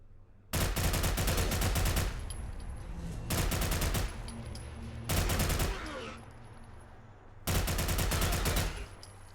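Automatic gunfire in the video game Fallout: London: four loud, rapid bursts of shots, each lasting about a second or two, separated by short quieter gaps.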